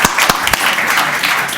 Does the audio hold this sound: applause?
yes